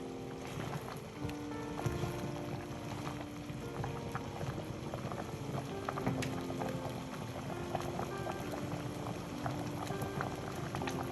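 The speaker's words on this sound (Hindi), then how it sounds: "अब हम ढक के इसको भी तकरीबन 5 मिनट के लिए आलूओं को बॉईल कर लेंगे" Potatoes simmer in chicken broth under a lid, a low, steady bubbling and gurgling with small pops throughout, muffled and moderately close, without speech.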